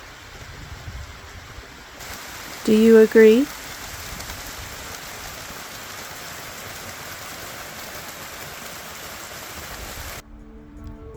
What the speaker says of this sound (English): Doug said that this waterfall sounded like soda bubbles